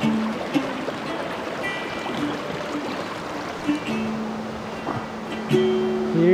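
The Tara River in Montenegro flowing steadily, a soft continuous rush and trickle of water close by, with faint voices and small splashes now and then.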